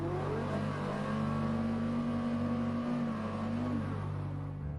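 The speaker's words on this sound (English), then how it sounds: "A naturally aspirated V10, born for endurance racing, forced onto the road." Porsche Carrera GT with a naturally aspirated V10 engine, rumbling steadily with a smooth sustained tone that rises slightly then eases off, heard close and continuous with no talking.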